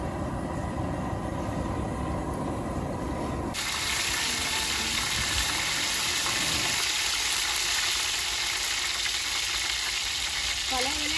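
Oil heats and fries in a pan for village-style chicken biryani, a constant, dense sizzle that grows brighter midway, with faint voices in the background.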